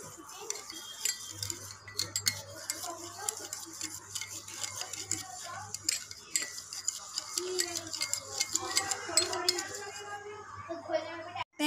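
Shower gel and scrub being mixed in a bowl at home, soft irregular stirring and light clinking of a utensil against the bowl, faint and close, with quiet background hum.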